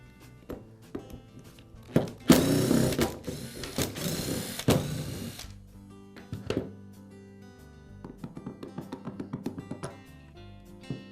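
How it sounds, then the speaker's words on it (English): Screws are backed out of the spindle assembly housing of a Makita angle grinder, giving ratcheting clicks and small metallic ticks, with a louder burst of scraping and rattling partway through. "Now I can remove the spindle assembly by removing the 4 screws that secure it to the housing."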